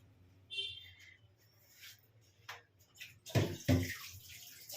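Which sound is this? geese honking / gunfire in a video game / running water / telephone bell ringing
running water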